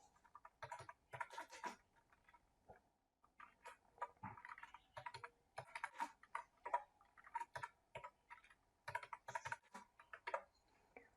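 Typing on a computer keyboard during an Excel spreadsheet tutorial: quick, irregular clatter of key presses in short bursts with brief pauses, close and quiet, no voices.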